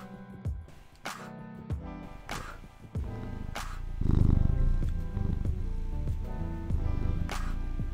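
A cat purrs close up in a steady, rhythmic rumble with regular pulsing breaths. The purr grows fuller and louder about halfway through, and no one speaks.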